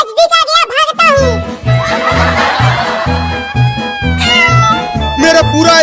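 A cartoon kitten meows in short high cries, several in a row, layered over a bouncy cartoon music loop, with a child-like voice and chuckles mixed in.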